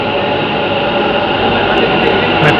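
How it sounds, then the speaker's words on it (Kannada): Bangalore metro train pulling into a station, a loud steady rumble and hum of the carriages with brief hissing near the end, close by and continuous with no talk. "ಮೆಟ್ರೋ."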